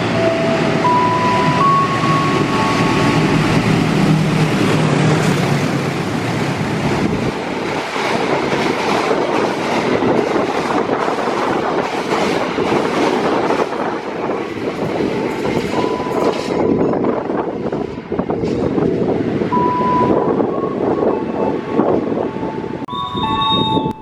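The Serayu 284-285 special, hauling Bali tourist carriage SI 06702, rumbles loudly past Klari station with continuous wheel clatter and a couple of brief horn tones, close by and without speech.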